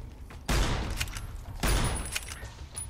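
In a Fallout: New Vegas fight, a centaur creature fires at the player: two heavy, booming gunshot-like bursts about a second apart, loud and close, each trailing into a rumbling roar.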